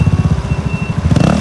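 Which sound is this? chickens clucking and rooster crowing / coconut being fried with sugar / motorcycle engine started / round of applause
motorcycle engine started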